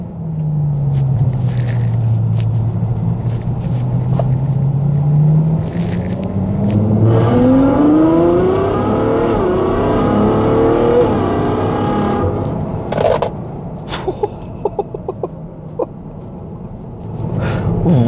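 A Ferrari FF's naturally aspirated V12 engine revs up loudly, its pitch climbing steadily through gears, then drops back with a few sharp pops and crackles.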